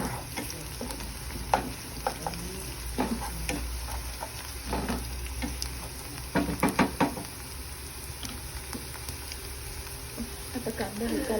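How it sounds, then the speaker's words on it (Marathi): Chopped onions frying in a pan with a soft, steady sizzle while a spoon stirs them, scraping and knocking against the pan now and then, as someone talks over the cooking. "असं फिरवायचं जेणेकरून तो कांदा सगळीकडून शिजला जाईल."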